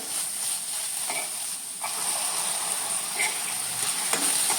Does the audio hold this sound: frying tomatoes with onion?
yes